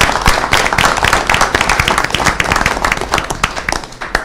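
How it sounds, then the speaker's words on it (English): Applause for police and civilian personnel at a city council meeting, close, loud hand clapping with distinct individual claps in a busy, uneven rhythm lasting the whole stretch. "So I want to give them a round of applause."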